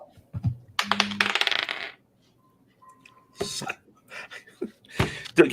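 A twenty-sided die clatters and rolls across a table during a tabletop role-playing game, a short rattling burst followed later by sharp clicks, with players talking around it.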